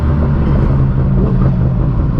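A Ferrari 812 supercar's engine exhaust roars steadily nearby, a loud, heavy low rumble held for the whole stretch with no talk over it.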